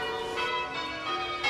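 Church tower bells cast by Mears and Steinbank at St Andrew's Church, Walkerville, South Australia, ringing clear resonant strokes with a long overlapping hum, several strikes in quick succession.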